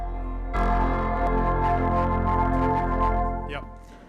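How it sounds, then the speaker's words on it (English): A big, sustained keyboard chord fired from one pedal of a PK5 bass pedal unit enters at about half a second, swelling loud and full, ringing steadily for several seconds before fading out. "there's a big, huge chord on the keyboards going into the chorus"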